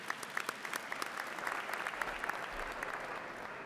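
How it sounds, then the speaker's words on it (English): An audience at a Lunar New Year celebration applauds its elected officials, a moderate, fairly distant patter of many hands with a few sharper individual claps standing out. "Let's give a big round of applause to our elected officials"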